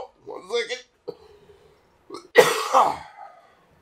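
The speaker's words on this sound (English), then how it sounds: "Here comes a cough." A person on a gaming commentary gives a few short throat noises, then one loud harsh cough close to the mic with a rough tail.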